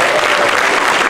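Audience clapping for a singer at a gospel concert, a loud, dense burst of applause from a crowd that stays steady through the short moment.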